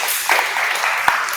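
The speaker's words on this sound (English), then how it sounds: "Round of applause for Robert" Short burst of applause from an audience at a hardware startup incubator demo day in Sydney, steady clapping at moderate level for a second or so.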